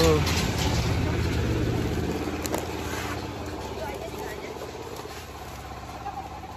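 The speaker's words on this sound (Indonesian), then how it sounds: "Ada mobil itu." A car engine rumbles nearby on a village road in Cisarua, Lembang, near the tea plantations, as a steady low drone that slowly fades, with people talking over it.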